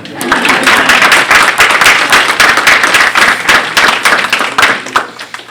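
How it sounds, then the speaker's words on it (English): A large audience claps steadily for veterans at a Veterans Day commencement ceremony, a loud, dense, sustained patter of many hands that holds evenly throughout with no voices over it. "I never get tired of clapping for them."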